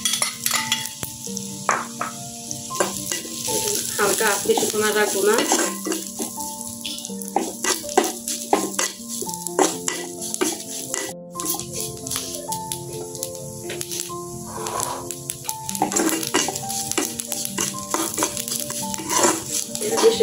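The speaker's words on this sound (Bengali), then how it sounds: "পেঁয়াজ, রসুন, কাঁচামরিচ ভাজা হচ্ছে, এখন আমি এখানে কালো জিরা দিয়ে" Onion, garlic and green chili frying with black cumin in a home kitchen, a steady sizzle with stirring scrapes and clinks running throughout, with background music and a brief spoken remark over it.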